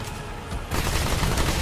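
Gunfire in a Remnant 2 boss fight forms a dense, loud fusillade, dull and continuous at first, then swelling into a harsher, brighter barrage partway through.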